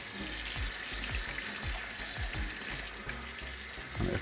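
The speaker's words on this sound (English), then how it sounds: "A quick rinse to get that ink out of there." Tap water runs steadily and splashes as fresh squid is rinsed of its ink, a continuous close hiss of flowing water with light movement in the stream.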